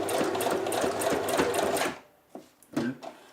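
A sewing machine runs in a fast steady burst of stitching for about two seconds while sewing a bra, then stops, followed by a few clicks and clunks of the mechanism.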